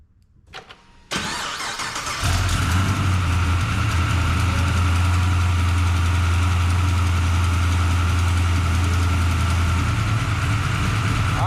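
A 1969 Chevrolet Chevelle engine cranks briefly, catches and starts, then settles into a loud, steady idle with a deep constant hum.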